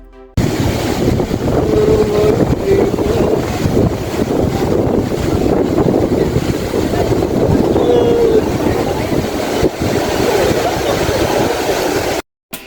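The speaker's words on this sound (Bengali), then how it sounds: "দক্ষিণা হাওয়া লাগছে" Strong wind buffets the microphone in a steady roar at Guliakhali sea beach in Sitakunda, Chattogram, with surf rumbling underneath throughout.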